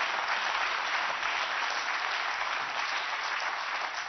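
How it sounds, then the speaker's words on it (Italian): A studio audience on an Italian political talk show breaks into loud, sustained applause, a dense unbroken wash of clapping that holds steady throughout with no voices over it. "c'è un applauso ogni due parole"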